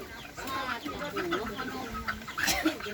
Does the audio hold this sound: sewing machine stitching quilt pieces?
no